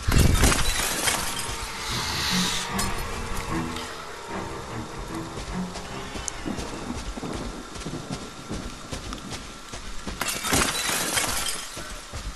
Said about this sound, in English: I'm breaking all the glass.